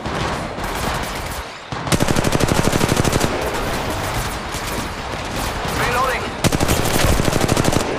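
Rapid automatic gunfire in the mobile shooter game Apex Legends Mobile, two loud bursts of closely spaced shots separated by a quieter stretch, with a voice faintly underneath.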